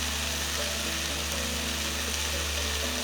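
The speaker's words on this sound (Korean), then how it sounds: "약불로 섞어주시면 돼요" Shiitake mushrooms and onion stir-fry in a pan over low heat, giving a soft, continuous close sizzle with faint mechanical rattling underneath.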